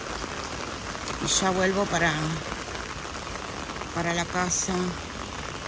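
Torrential rain pours down in a steady, dense hiss during a long spell of heavy downpours, with runoff draining downhill, while a person talks briefly over it.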